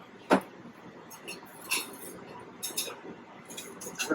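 A whisk clinking against a bowl while eggs are beaten with half and half, salt and pepper, giving sparse light taps and scrapes in uneven bursts, fairly close and quiet.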